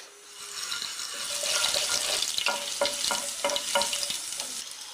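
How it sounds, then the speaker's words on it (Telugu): Cumin seeds fry in 2-3 tablespoons of hot oil in a pan for a village-style fish curry, a close, continuous sizzle with crackling pops and bursts of stirring, with no talk. "దానిలో జీలకర్ర వేసి వేయించుకుందాం."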